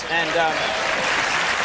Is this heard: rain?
no